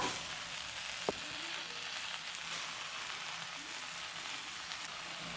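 Water spinach fries in a pan with onion and garlic, a soft, steady sizzle that runs throughout with one brief sharp tap near the start.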